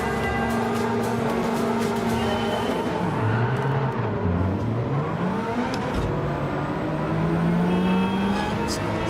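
Racing car engines in Gran Turismo 7, a dense, loud pack of cars droning and revving together, with engine pitch dipping and then climbing again as the cars brake and accelerate, steady throughout.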